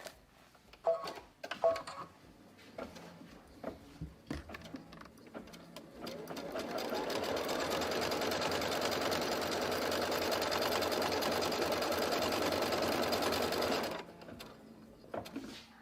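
An embroidery machine stitching a quarter-inch seam on quilting fabric in the hoop, a few clicks and taps before a steady, loud, continuous mechanical whir that runs for several seconds and then stops abruptly.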